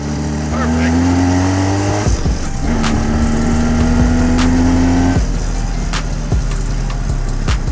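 A car travelling a rough forest road on a long 30-kilometre drive, a steady loud engine drone rising in pitch through the gears, with road rumble and occasional knocks, close and continuous throughout.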